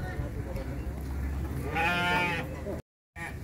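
Sheep bleating loudly and close while being unloaded for a breeding delivery of rams to Padalarang, West Bandung, a long wavering bleat over constant handling noise and talk, then a brief cut and another short bleat.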